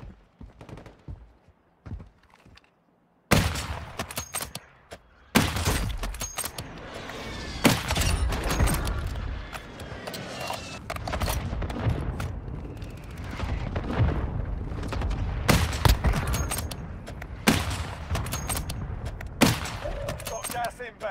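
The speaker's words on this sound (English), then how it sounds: "Friendly airstrike in the AO." A Warzone Mobile match erupts into a dense, sustained barrage of airstrike explosions and rattling gunfire after a quiet opening, with loud booms and bursts continuing throughout.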